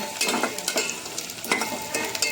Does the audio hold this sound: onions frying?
yes